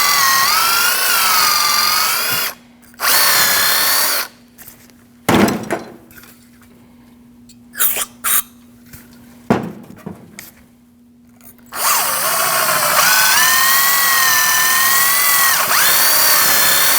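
A power tool whirs close by as it cleans out the caliper bracket hole on a 2003–2008 Subaru Forester during a front brake job. Sustained bursts of spinning are split by pauses and light metallic clicks.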